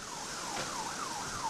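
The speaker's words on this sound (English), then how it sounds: "You can hear all the sirens and everything." Emergency vehicle sirens wail after a wind storm in Elkhart, Indiana, a rising and falling tone heard faintly in the distance with nothing else over it.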